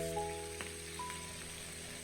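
Fish mouths pan-frying after about five minutes, a quiet, steady crackling sizzle with a few faint tonal hums in the background.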